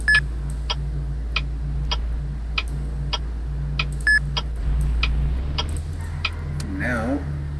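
A city bus in the game Emergency Response: Liberty County drives with a steady low engine drone, while sharp, evenly spaced ticks repeat about twice a second above it.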